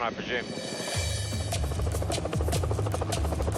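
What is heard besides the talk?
rescue helicopter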